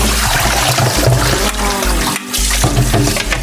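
Salay ginto fish is rinsed in water until the water runs clear: loud, continuous splashing and sloshing with pouring water, close by and uninterrupted.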